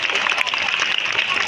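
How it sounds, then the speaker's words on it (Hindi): An audience claps briefly in a dense, even burst of applause, with a voice faintly mixed in. "तालियां बजाते हैं सभी।"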